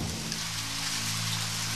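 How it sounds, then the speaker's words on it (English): Heavy rain hissing steadily across surfaces, a dense loud wash of drops with a faint low hum underneath, no talking. "Heavy rain."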